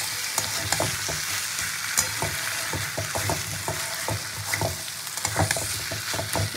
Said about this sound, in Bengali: এবার আমি এখানে ভেজে রাখা আলু, এঁচোড় আর চিংড়ি মাছ কিন্তু একসাথে মশলার মধ্যে দিয়ে কষাবো